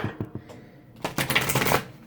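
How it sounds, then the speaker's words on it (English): Tarot deck being shuffled by hand, a few quick card taps followed by a rapid riffling flutter of cards, close and crisp. "One more shuffle"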